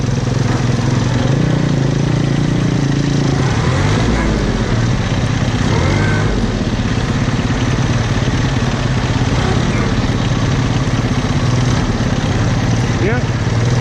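A New Idea sickle mower runs with its engine droning loud and steady throughout, a low rumbling tone that shifts slightly as it changes gear, with a voice talking over it.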